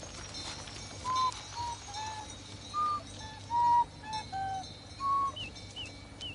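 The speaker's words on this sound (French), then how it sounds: "Son attention avait été attirée par des cris d'oiseaux." Birds calling nearby with a series of short whistled cries, repeated at irregular intervals, against a quiet low background hum.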